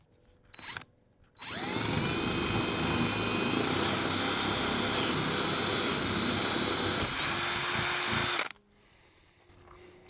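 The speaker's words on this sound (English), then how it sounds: "Okay, all the holes are drilled." Power drill boring holes in a Jeep seat-delete platform, one long steady whine of about seven seconds, close and loud, with a brief start-up burst just before and no talking.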